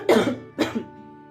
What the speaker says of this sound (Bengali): লঙ্কার ঝাঁঝে এখন কাশি শুরু হয়ে গিয়েছে।